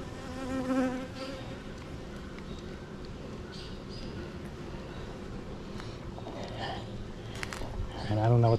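Honey bees buzz around an open hive during an inspection, a steady swarming drone with a few louder passes near the microphone.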